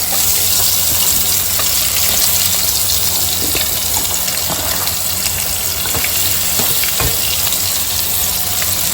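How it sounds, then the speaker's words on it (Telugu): Two medium onions with green chillies sizzle steadily in oil in a pan over a low flame, a dense, continuous frying hiss close up with no talk. "లైట్గా బ్రౌనిష్ అయ్యేంత వరకు ఫ్రై చేసుకోవాలి"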